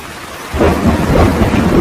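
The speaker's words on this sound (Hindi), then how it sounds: "बारिश बहुत तेज थी।" Heavy thunderstorm with pouring rain: after a brief quieter moment, a loud, deep rolling rumble of thunder swells in and carries on over dense, steady rainfall close by.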